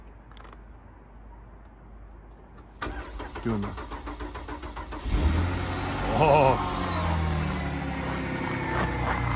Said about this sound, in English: The car has been cold soaked all night, and I'm going to just give it a start.